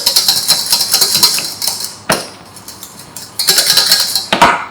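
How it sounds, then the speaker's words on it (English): Choux pastry dough stirred in a pot, a spoon clanking and scraping loudly against the metal sides and edge in quick uneven strokes, close up with a short pause midway and no talk. "So you really need to stir evenly and properly."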